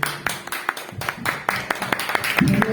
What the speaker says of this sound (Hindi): एक जोरदार तालियां जिंदा खुदा के लिए।